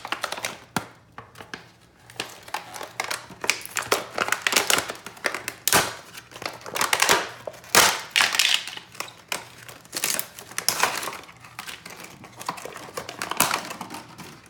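Packaging around a Furminator slicker brush is ripped open up close, with bursts of crinkling, tearing plastic and cardboard crackles coming in uneven waves throughout.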